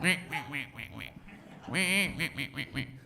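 A person imitates duck quacking with a string of nasal quacks, a short pause, then a louder burst of rapid quacks, fairly close.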